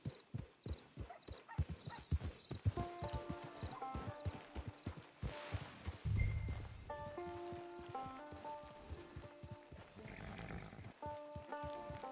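A horse walking in a PS4 video game, steady clip-clopping hooves at a moderate pace with game music tones layered over it, fairly quiet overall.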